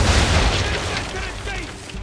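Ship cannons fire in Assassin's Creed as a heavy, rumbling boom that fills the short moment and fades with a lingering roar, loud and close.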